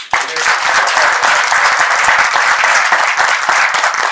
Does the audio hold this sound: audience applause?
yes